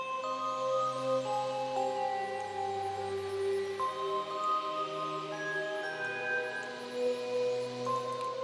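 An electronic two-note melody made in LMMS repeats, with a sustained bass and chord tones beneath it, then shifts up an octave in the second half. It plays alone at a steady volume.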